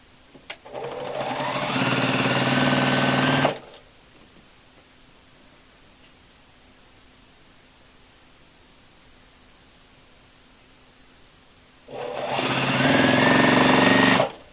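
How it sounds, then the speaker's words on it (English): A sewing machine stitching quilt patches together runs in two loud, close bursts of rapid mechanical whirring, the first about three seconds long and the second near the end, separated by a long quiet gap. "I'm going to put my stitch length up to like a normal, almost a 2, and then I'm going to just sew these together"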